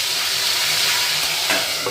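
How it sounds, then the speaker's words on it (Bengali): Koi fish frying in hot oil in a wok give a steady, close, dense sizzle throughout, with a brief clatter of stirring near the end and no talking. "এইভাবে একে একে কই মাছগুলো কড়াতে দিয়ে দেওয়া হলো"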